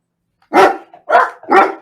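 Pablo the dog barks three times in quick succession, loud and close, with short pauses between each bark and no talking over them.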